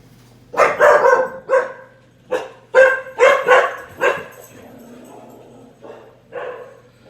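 A dog barks in a kitchen, a close, loud burst of about eight sharp barks in quick clusters, then a pause and a couple of softer yips.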